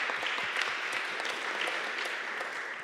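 A conference audience at a climate foreign policy event on Central Asia applauds steadily, a dense, even wash of many hands clapping at moderate distance, without pause throughout.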